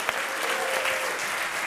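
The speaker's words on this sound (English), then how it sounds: "a big round of applause for yourself" A tournament audience at a Splatoon 3 event bursts into sustained, dense applause, a brief steady wash of clapping from a large crowd.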